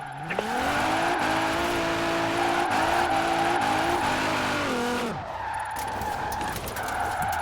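Car drifting in the Forza Horizon 4 video game, with a steady engine drone and tyres skidding loudly for about five seconds before it eases off into quieter engine noise.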